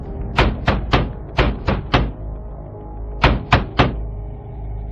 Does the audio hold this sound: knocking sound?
yes